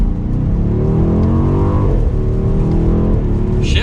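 A 2023 BMW X6 M Competition SUV's engine and exhaust roar loudly from inside the cabin, revs rising and dropping in steady harmonic sweeps as the driver downshifts into second gear.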